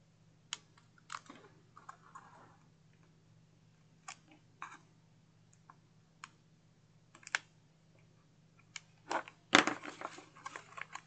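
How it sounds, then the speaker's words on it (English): Tape backers are peeled off file folder card stock, giving scattered soft crackles and clicks that build to a louder crinkly tear near the end, over a faint steady hum. "And then I'll peel away these tape backers."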